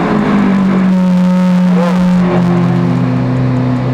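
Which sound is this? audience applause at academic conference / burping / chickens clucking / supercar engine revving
supercar engine revving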